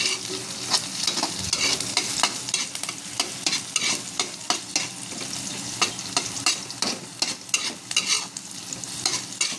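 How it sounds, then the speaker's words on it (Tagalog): Chili peppers fry in a hot pan for adobong hito, a continuous close sizzle broken by repeated scraping clicks of a utensil stirring them. "So lulutuin lang natin yung sili."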